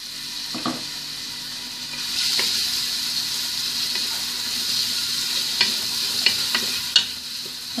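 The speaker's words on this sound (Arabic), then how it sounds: "بعد ما كيسخن الزيت ديالنا كنضيفو هاد البصل" Onion hits hot oil tinted with turmeric or saffron and starts frying, a close, steady sizzle with scattered spatula clicks and scrapes against the pan toward the end, no talking.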